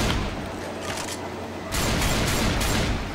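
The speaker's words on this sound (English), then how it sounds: "Seeing if I could shoot through the roof." Gunfire in Left 4 Dead 2 during a Hard Rain speedrun, dense rapid volleys of shots, loud and close, growing harsher and more intense partway through.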